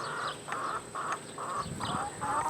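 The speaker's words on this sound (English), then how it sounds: "But right now, the chickens are waiting." Homestead chickens waiting for morning feed cluck in a repeated rhythm of short calls, moderately close against a steady outdoor background hum.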